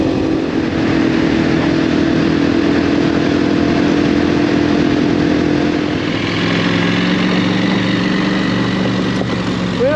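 A KTM 790 or Husqvarna 501 adventure motorcycle ridden off-road on an Arizona trail in docile off-road throttle mode, its engine droning loud and close with a steady low rumble and shifting pitch, plus wind buffeting and no talking.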